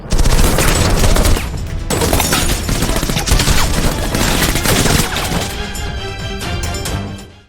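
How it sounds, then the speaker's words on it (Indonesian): Gunfight shootout from the action film The Berlin File: dense, loud bursts of rapid gunfire and crashing impacts filling the whole stretch, thinning slightly toward the end, with a music-like score running underneath. "Jin-soo datang menemukan mereka sehingga terjadilah aksi tembak-tembakan"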